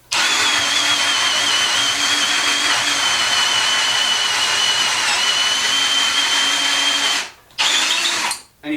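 A Milwaukee 2603 M18 Fuel cordless drill driver whirs steadily in its low speed range for several seconds, close up, then briefly stops and starts again near the end.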